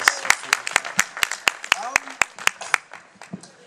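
Audience clapping at a backyard variety show in Ballarat: a steady run of about a dozen sharp, distinct claps at a brisk even pace, close and fairly loud, tapering off at the end with a murmur of voices underneath.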